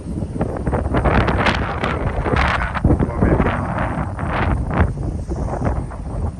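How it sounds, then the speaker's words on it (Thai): Wind gusts in heavy blasts against the microphone while snow falls outdoors in the cold, roaring loud and uneven throughout. "ลมก็พัดมาเย็นเย็นสโนก็ตกปล่อยปลายปล่อยปลายลงมา"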